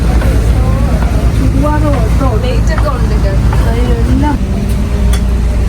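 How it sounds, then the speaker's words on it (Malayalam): A boat engine on the Kuttanad backwaters rumbles low and steady while the boat is brought in to moor, with people talking over it throughout. "ബോട്ട് ഒതുക്കുവാണ്."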